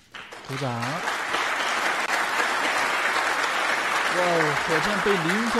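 Sustained applause from a snooker audience at the 2023 Welsh Open, steady and full throughout, with a commentator's voice rising over it near the start and again toward the end.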